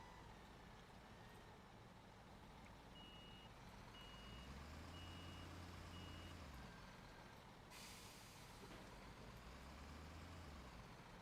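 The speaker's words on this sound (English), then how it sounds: "Okay, Raptor, if you don't mind taking the truck back for me" A small flatbed truck backing up in the game Construction Simulator 2015: a steady series of evenly spaced reversing beeps over a continuous diesel engine rumble, with a brief hiss like an air brake near the end.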